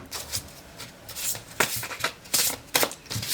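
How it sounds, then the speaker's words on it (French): Tarot cards being shuffled and drawn at close range, a quick irregular series of crisp papery riffles and slaps with brief pauses between, no talking. "on va tirer une carte du côté contre pour voir un peu ce que ça dit"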